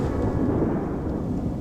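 Deep thunder rolls through a storm, a low continuous rumble with a faint rain-like hiss above it, moderately loud and unbroken, with no voices.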